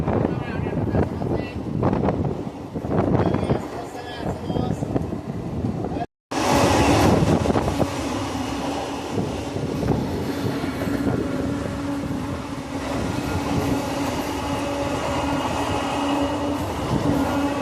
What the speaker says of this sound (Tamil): ட்ரெயின் கரெக்டான டைமிங்கில் தாங்க போயிட்டுருக்கு.